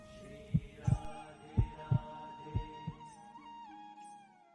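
A heartbeat sound effect: six low thumps in paired beats over about three seconds, set against a steady hum that fades out on its own.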